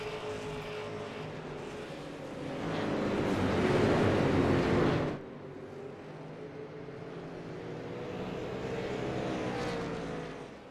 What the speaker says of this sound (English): see the sights and hear the sounds of these beautiful super late model race cars